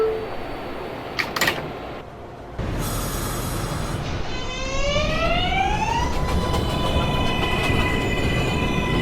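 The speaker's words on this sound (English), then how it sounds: "This is a Manhattan-bound 4 train." A Manhattan-bound 4 subway train in the New York system: clanks and clicks, then a rising electric motor whine with stacked tones as the train pulls away, over a constant rumbling roar that carries on to the end.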